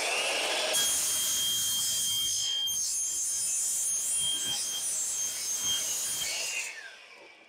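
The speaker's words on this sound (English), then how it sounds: "Let's head over to the saw, cut up all these pieces, and start nailing them in place." Power saw cutting vinyl siding pieces for a shed, a loud continuous high-pitched whine and rasp lasting several seconds before winding down, with no talk.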